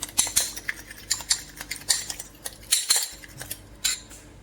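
A small spoon clinks and scrapes steadily against a bowl, whisking egg yolks with instant Nescafe in quick, even strokes, close and clear with no talking.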